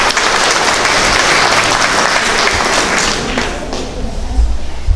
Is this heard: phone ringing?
no